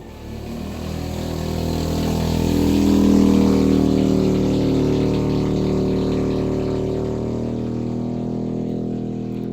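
Motorcycles pass along a street, a loud, steady engine drone that swells toward the middle and then slowly fades, with no voices over it.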